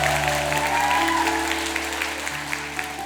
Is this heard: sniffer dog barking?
no